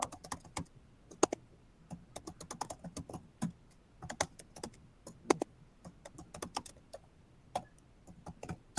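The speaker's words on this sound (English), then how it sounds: "I'm gonna type my email here" Typing an email address on a computer keyboard: a steady run of crisp, close key clicks in irregular quick bursts, with no voices.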